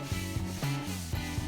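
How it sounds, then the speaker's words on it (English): A sanding block scrubs back and forth across a painted wooden dresser in short, regular rasping strokes, close and moderately quiet, with no voices. "Now you'll start with your sanding block."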